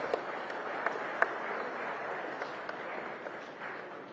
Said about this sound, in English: A great round of applause to YES on this.